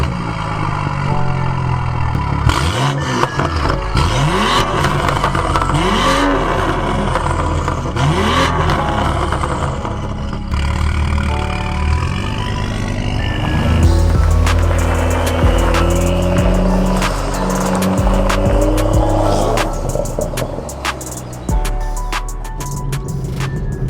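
A BMW M135i accelerates hard while driving, its engine rising and falling through several loud revving sweeps and gear changes, with road and cabin noise throughout.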